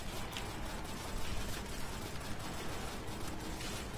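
Dense, continuous machine-gun spray in Call of Duty custom zombies, a steady rattling burst of rapid shots running through the whole stretch with no pauses and no voices.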